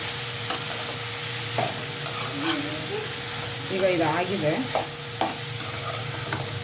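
A pigeon pea chutney mixture with salt is stirred in a pan over a soft continuous sizzle, with scraping strokes recurring at intervals and a short spoken remark in the middle.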